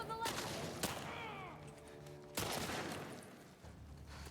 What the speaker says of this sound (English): Oh, it's Dina that's shooting